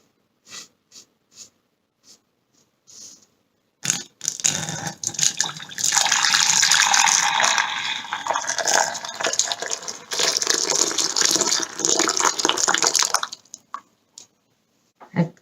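Boiling soy milk is poured from a height into a container for homemade soya beancurd: a few light drips and clinks, then a loud, steady, splashing pour lasting about nine seconds before it stops.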